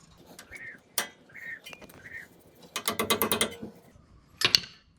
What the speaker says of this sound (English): Tightening up the brake line.